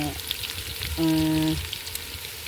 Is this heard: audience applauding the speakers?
no